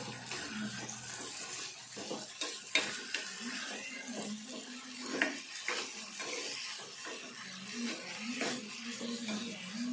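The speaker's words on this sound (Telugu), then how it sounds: "ఇది కడిగి పెట్టుకున్న రొయ్యలు. కొద్దిసేపు వేపుకోవాలి." Washed dried shrimp frying in a pan for an old-style dried prawn tamarind curry, giving a steady broadband sizzle with scattered crackles and pops, close and continuous throughout.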